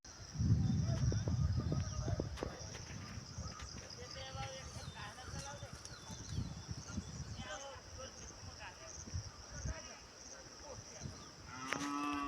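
Oxen on a village farm lowing, a deep moo close by near the start, then a quieter mix of farmyard sounds, insects and distant voices continuing underneath.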